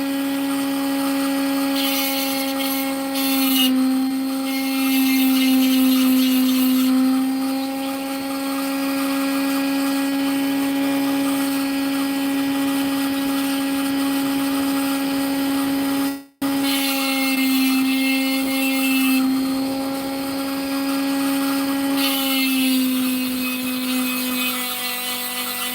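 A power sander works steadily on free-form wood for about 25 seconds, a loud continuous whine with a brief cutoff around the middle before it resumes, with no talking.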